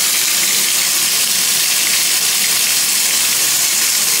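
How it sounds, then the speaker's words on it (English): Hot water gushes from a tap aboard an airliner in a steady, loud hiss that continues throughout, close by with no voices. "Let's check the hot water to make sure it's running."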